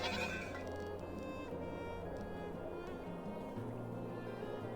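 Goats bleating in a farm field in the video game Farthest Frontier, a few drawn-out bleats over a continuous ambient game background, moderately faint and with no speech.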